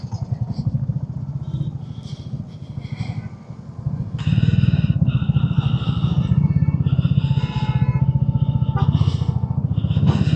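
A motorcycle riding on a road toward an airport road on a ride from Patiala to Dagshai, its engine giving a steady pulsing rumble that grows louder and rougher partway through.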